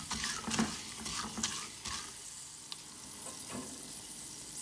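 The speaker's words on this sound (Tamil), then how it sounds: "இந்த வேர்க்கடலை மட்டும் நல்லா எண்ணெயில் ஃப்ரை ஆகிற அளவு வெயிட் பண்ணணும்" Raw peanuts frying in oil, giving a steady, faint crackling sizzle throughout with occasional soft pops and stirring scrapes.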